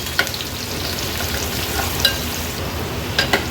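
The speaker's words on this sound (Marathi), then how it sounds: "ह्या फोडणीला घालूया आणि व्यवस्थित थोडं तेलावर परतून घ्यायचे आहेत" Garlic sizzling and crackling in hot oil with a steady frying hiss and a few sharp pops and stirring scrapes.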